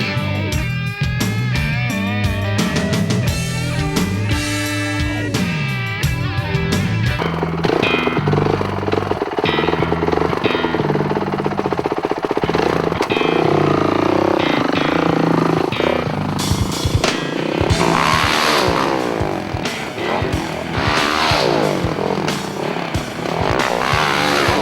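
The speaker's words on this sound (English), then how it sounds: "First time today riding my Supercross track that my friend Randy Menenga built me" A 450 dirt bike works around a backyard Supercross track, its engine loud and continuous with rising and falling revs as it accelerates and backs off, heard under a layer of music.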